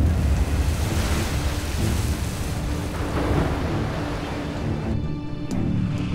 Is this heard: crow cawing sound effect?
no